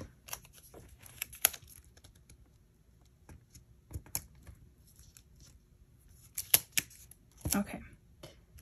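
Scissors trim a paper sticker sheet down to size in short, scattered snips and rustles, close and crisp, with quiet gaps between cuts.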